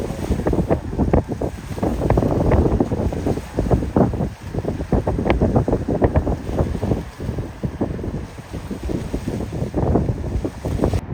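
Seaside wind by the San Mateo Bridge in the San Francisco Bay Area buffets the microphone in loud, continuous gusts and rumbles, with a broad rush like waves or water beneath it and no speech.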